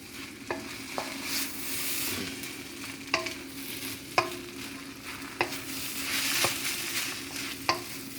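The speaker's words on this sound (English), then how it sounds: "You hear that? Did you hear that sound? It's the wok." Steady sizzling of shrimp noodles stir-frying in a wok with dark soy sauce, punctuated by sharp metallic scrapes and clacks of stirring at irregular intervals.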